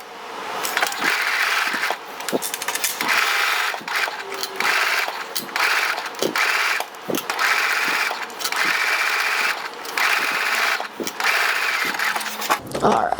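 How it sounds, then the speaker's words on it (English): Sewing machine running a straight stitch on a vintage halter top and wrap skirt, with repeated whirring runs of rapid needle chatter broken by short pauses and clicks, close and loud, with no talking. "don't forget to put your machine back to regular stitch length"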